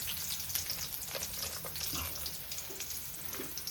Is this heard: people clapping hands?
no